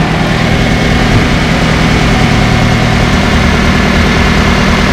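A 2008 Toyota Hiace engine idles with its number 1 cylinder misfiring and a leaking head gasket, giving a steady, loud, close rumble with a rough low throb that runs unbroken throughout.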